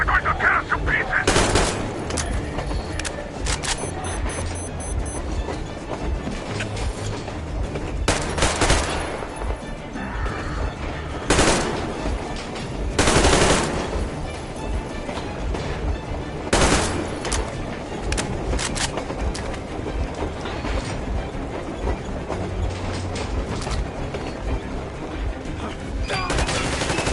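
Gunfire in the Metro Exodus video game, with repeated bursts of automatic fire and single loud shots breaking through a tense battle scene, spaced irregularly over nearly half a minute amid shouting voices.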